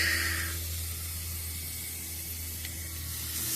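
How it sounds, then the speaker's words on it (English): Chicken sizzles in a hot pan for Mexican-style cooking, a steady close hiss of frying that fades a little after the first half-second and then holds evenly, with no talk. "Oh, listen to that sizzle."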